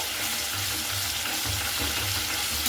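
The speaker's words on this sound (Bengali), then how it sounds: "তো এইভাবে টক দইটা দিয়ে খুব সুন্দর করে আবারও আমি নাড়াচাড়া করে নিচ্ছি।" Sour yogurt is stirred into pointed gourd and prawn curry frying in a pan, giving a steady close sizzle with soft scraping stir strokes throughout and no voices.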